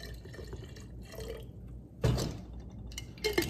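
Water trickles and drips into yogurt inside a wasp bait trap, short pours and splashes with gaps between, close and fairly faint.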